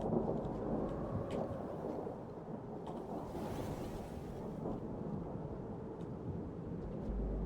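Rain World game audio of a heavy downpour with rolling thunder, a dense steady hiss of rain under deep low rumbles that swell and fade, with no voices.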